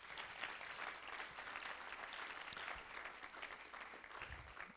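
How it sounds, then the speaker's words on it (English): Audience applause closing an evening lecture, a steady wash of many hands clapping continuously throughout, fairly distant and even, with no speech over it. "Let's give Chris one more round of applause."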